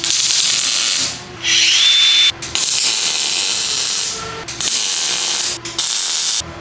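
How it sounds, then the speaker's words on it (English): A grinder works on a welded throttle pedal bracket for a Jeep with a 6.6 Duramax swap, giving several loud, close bursts of harsh hissing whine separated by brief pauses, with no talking. "got a little close with the grinder"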